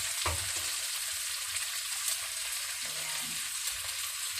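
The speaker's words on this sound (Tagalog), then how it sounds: "So, lalagay na natin yung ating pork ribs." Pork ribs frying in a pan with butter and garlic, giving a steady bright sizzle throughout with a few soft stirring knocks, close and even in level. A voice speaks briefly at the start.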